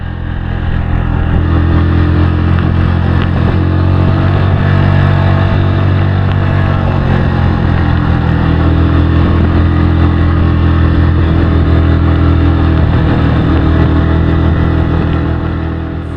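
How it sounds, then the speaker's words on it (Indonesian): A Yamaha W175 motorcycle engine labors steadily up a long, steep mountain road, a continuous loud low drone with constant wind rush, no pauses, heard from the rider's position. "mesin motor sudah kedengaran kerja ekstra di sini"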